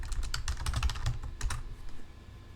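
Rapid keystrokes on a computer keyboard while working in a Windows PowerShell console, a dense run of close clicks for about two seconds that thins out toward the end, with no voices.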